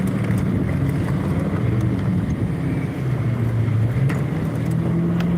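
Car burnouts at the SEMA Show in Las Vegas, a heavy continuous engine roar and rumble heard from a short distance across a busy show area, fairly loud throughout.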